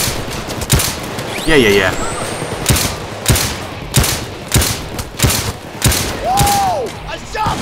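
Gunfire in the video game Payday 2 with a taser shot among it, several sharp bursts cracking at a steady rhythm against a noisy background of game sound, with a single short spoken word.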